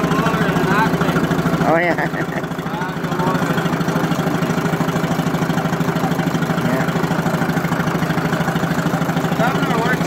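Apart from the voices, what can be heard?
1951 Ferguson TE 20 tractor engine idling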